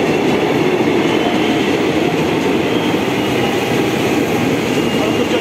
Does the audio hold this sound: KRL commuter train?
yes